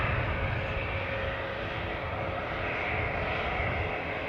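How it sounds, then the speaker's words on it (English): An EasyJet Airbus A320-200 jet at Manchester Airport produces a loud, steady engine roar that holds constant throughout, with no voices. "But right now we've got an EasyJet Airbus A320-200 going to Amsterdam."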